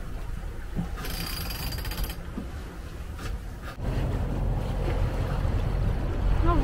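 A sailboat moving under sail with its engine shut off near Lanzarote, with steady wind rushing across the microphone and waves washing against the hull, a louder surge of water and wind building midway and continuing.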